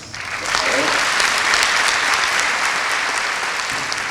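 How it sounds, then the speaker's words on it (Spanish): Strong audience applause welcoming the lecturer at a public physics lecture on quantum mechanics, dense sustained clapping that swells after a half second and continues evenly to the end, with faint voices beneath. "el doctor Barton Schwibach, a quien recibimos en este instante con muy fuertes palmas,"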